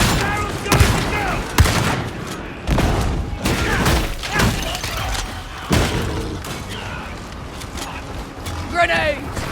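Gunfire and an exploding barrel in the video game Warhammer 40k: Darktide: a busy run of loud thumps and bangs, with booming impacts scattered through a dense barrage and in-game voices calling out over the top.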